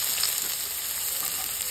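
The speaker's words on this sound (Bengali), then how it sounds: "এবার আমি পেঁয়াজ দিয়ে একটু ভেজে নেবো।" Sliced onions frying in hot oil with browned potatoes in a pan for a fish curry, giving a continuous bright sizzle and crackle, close and steady, with no talking.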